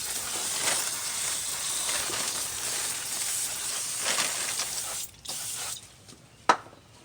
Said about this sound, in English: Take the brake cleaner again.